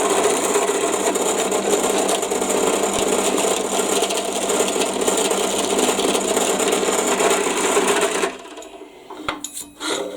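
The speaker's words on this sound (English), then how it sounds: "Let's just put a 1mm hole one side." A small drill fitted with a 1mm bit bores into oak with a steady, buzzing whir for about eight seconds. The drilling then stops, leaving a few faint handling knocks.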